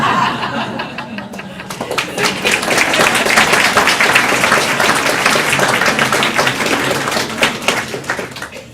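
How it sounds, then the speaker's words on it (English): Applause and some laughter from an audience at a public school board meeting, a loud, steady wash of many hands clapping that swells and then holds for several seconds before easing slightly. "So let's give them another round of applause"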